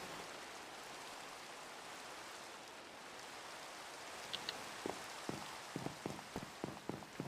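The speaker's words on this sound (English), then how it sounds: "Okay, let's stop this rain. It's kind of annoying." Steady rain in the Sky Factory 4 Minecraft video game, a soft even hiss of falling water with scattered sharper drips and taps growing more frequent toward the end, alone without talk.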